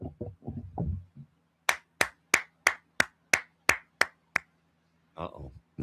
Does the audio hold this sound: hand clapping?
yes